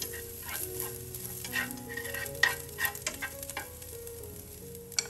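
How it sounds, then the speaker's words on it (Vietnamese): Chinese sausage (lạp xưởng) stir-frying in a pan, a steady close sizzle with scraping stirring strokes and light clatter throughout, no voices. "Tiếp tục mình cho lạp xưởng vào. Mình xào sơ lên cho nó thơm"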